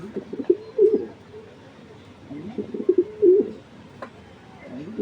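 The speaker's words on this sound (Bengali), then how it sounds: "এই দর্শক নটটার ডাকটাও দেখুন আপনারা" Racing pigeons cooing close by, several soft, throaty coo phrases in bursts with pauses between them, over a quiet background.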